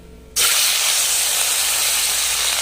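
Fish hitting hot oil in a home kitchen pan for a curry lunch, a sudden loud, steady frying hiss that starts abruptly and holds strong to the end.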